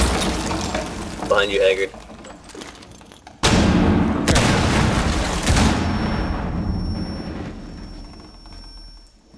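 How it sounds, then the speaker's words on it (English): In Rainbow Six Siege, a thermite breach charge blows through a wall on the Chalet map with a sudden loud blast and a crumbling, rumbling roar that slowly fades, after a hissing burn and a few voices in the game. "Okay, it's thermiting. Blowing, guys."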